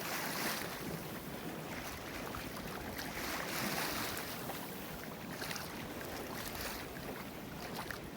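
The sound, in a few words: sailboat running downwind in wind and waves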